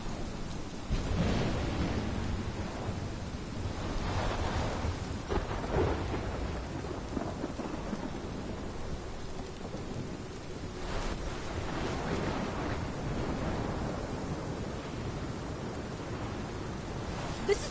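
Thunderstorm in Life is Strange, with steady heavy rain and repeated deep rolling thunder swelling and fading across the whole stretch, no voices.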